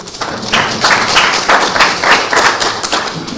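Audience clapping at a government handover ceremony, a steady, fairly loud round of many hands with a slightly rhythmic, pulsing patter that holds for several seconds.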